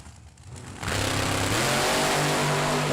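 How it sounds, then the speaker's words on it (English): Drag race cars rev at a Super Pro event, a loud supercharged blower car from Ohio and a Chevy II Nova, engines swelling into a sustained, roaring, near drone that fills the track after a brief quieter start. "The loud blower car from Ohio taking on the J&M Racing Chevy 2 Nova, Jason Mikula."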